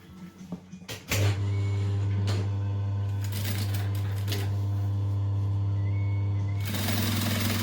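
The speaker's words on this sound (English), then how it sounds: "So you just want to lay these right sides together and stitch along the top." Sewing machine stitching vinyl bucket bag pieces, a steady loud mechanical hum running for several seconds after a few clicks and handling noises, then stopping with a brief rustle.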